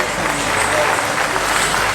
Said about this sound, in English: give a good round of applause to the amazing musicians here